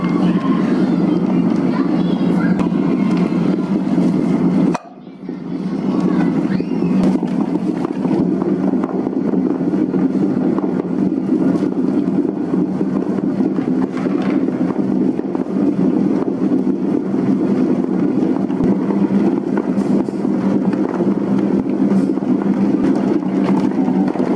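A dough mixer machine kneads bun dough for chicken bakpao, a steady loud motorized rumble and whir running almost throughout, broken by a brief drop near the start before resuming.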